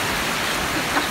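Heavy rain pours down outdoors in an unbroken, dense hiss of falling drops, loud and close, with no talk or gaps.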